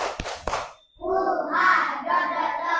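A few sharp claps, then a group of children chanting together in rhythm, lively and close.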